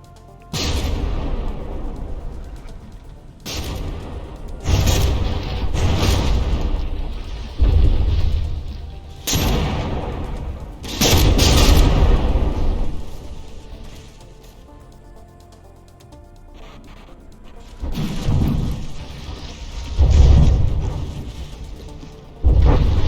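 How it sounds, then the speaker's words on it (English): Battleship cannon shells fire and strike in the From the Depths naval combat game, landing as repeated heavy booms and rumbling impacts in bursts, separated by quieter gaps. "that's a big old tank group of shells coming for this turret"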